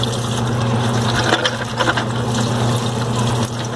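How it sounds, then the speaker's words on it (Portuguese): Running water rinses Solex 34 mm carburetor parts from a Variant, a steady spray and splash with a constant hum underneath, loud and continuous throughout. "Jogar uma água aqui. Dar uma enxaguada."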